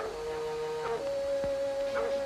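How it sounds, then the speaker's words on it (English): A dog chasing a bear outdoors howls in long, wavering tones with a few short barks, heard fairly close and alone. "Duke's dog's driving that old bear right into our laps."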